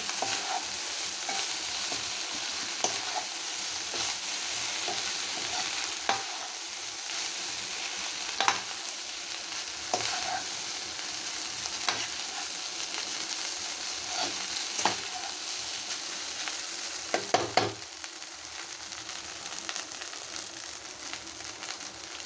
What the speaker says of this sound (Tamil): ஸ்ப்ரிங் ஆனியனும் கொத்தமல்லி போட்டுட்டு நல்லா மிக்ஸ் பண்ணிவிடுங்க